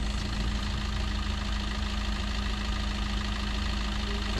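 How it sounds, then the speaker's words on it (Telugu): A 2017 Maruti Ciaz diesel car engine idles with a steady, even low hum and a faint rhythmic knock, heard close and unchanging, with no voices. "అంత పర్ఫెక్ట్గా ఉంది ఇంజన్ బీటింగ్."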